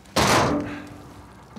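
Diving gear tossed down in Uncharted 4, a single solid thunk close by that decays over about a second, with no talk.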